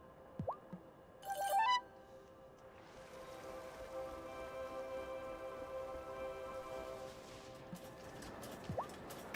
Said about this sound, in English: What has you braving Fairhaven's rainy weather to be here?